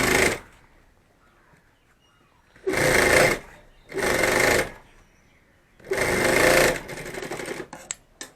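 A sewing machine stitches a bag in three separate runs, each a loud, steady mechanical whirr lasting about a second, with quiet pauses between and light clicks afterward.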